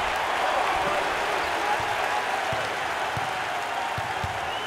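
A student section cheers at a college basketball game, a dense, sustained roar of crowd noise and applause filling the arena at an even, loud level, with a few sharp thumps rising out of it.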